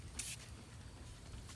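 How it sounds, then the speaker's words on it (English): SuperClean foam aerosol sprayed onto a car: a short, quiet hiss of spray near the start and a fainter puff near the end, over a low background hum. "I'm just going to spray this a little bit more."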